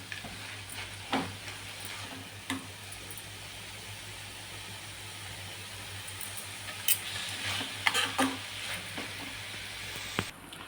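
Tender leafy greens frying in a pan, a soft continuous sizzle and hiss with occasional scrapes and taps of a stirring spoon, close and fairly quiet, no talking.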